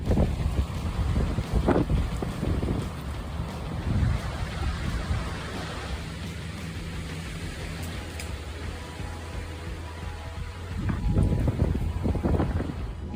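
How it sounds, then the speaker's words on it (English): Powerful wind strong enough to lift soil and trees roars as loud, broadband rushing and buffeting, swelling at the start and again near the end, with no speech. "This wind is so powerful that it lifted a layer of soil along with the trees."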